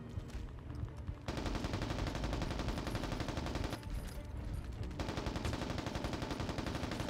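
Sustained automatic gunfire from the video game Mercenaries: Playground of Destruction, loud, dense bursts of rapid shots running almost the whole time with a brief lull midway.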